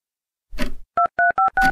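A phone keypad is dialed, a rustle followed by four quick, clear DTMF beeps in close succession.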